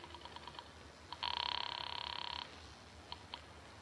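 A telephone in a 1948 radio detective drama is lifted and dialed: faint clicks give way to a steady electronic tone lasting about a second, then a few more soft clicks, all quiet and close with no talking.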